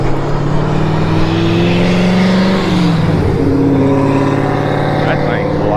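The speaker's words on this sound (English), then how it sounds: "oh, there's a car coming up behind me." Car approaching from behind and passing a rider on an e-bike, a loud engine drone that rises and shifts pitch as it goes by, over steady road and wind noise.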